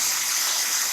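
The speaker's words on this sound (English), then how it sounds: "I'm going to go ahead and add broth to that because I can tell I'm going to need it" Broth pours into a 3-quart Dutch oven as a brief, steady gushing splash with no voices over it.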